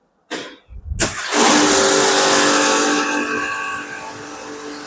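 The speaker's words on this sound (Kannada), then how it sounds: "ಇವಾಗ ನಾನು ಕಾರ್ಗೂ ವಾಟರಿಂಗ್ ಮಾಡ್ಬಿಟ್ಟು ತೋರಿಸ್ತೀನಿ ನಿಮಗೆ." A wall-mounted pressure washer starts up with a couple of short pulses and then settles into a loud, steady motor whine with rushing spray as it sprays water on a car, close and continuous.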